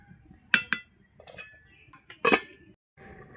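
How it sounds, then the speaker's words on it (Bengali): Metal lid set onto a cooking pot in a home kitchen: a sharp clink, a second tap, some light rattling, then another bright clang as it settles, fairly close and clear. "এবার ঢাকা দিয়ে দেবো।"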